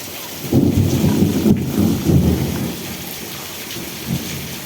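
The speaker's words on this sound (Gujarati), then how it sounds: "વરસાદ સાથે વીજળી પણ।" Heavy rain pours down with rumbling thunder during a storm over a village, a dense steady hiss of rain under deep rolling thunder that swells early and fades, no voices.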